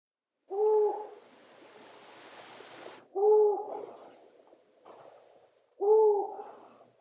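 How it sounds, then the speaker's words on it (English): An owl gives a single deep hoot three times, evenly spaced with long pauses between calls, each hoot clear and resonant against quiet background. "Their call is a single deep whoo call with a pause and"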